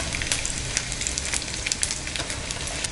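A wheat vegetable roll fries in oil over a low flame, giving a steady close sizzle with fine crackling pops throughout and no talking.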